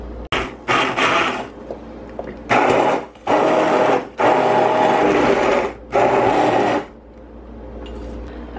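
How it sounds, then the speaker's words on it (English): An immersion blender whirs through a pot of corn chowder in loud bursts, roughly five separate pulses of a few seconds each with short pauses between. "I'm just gonna blend it a little bit with this"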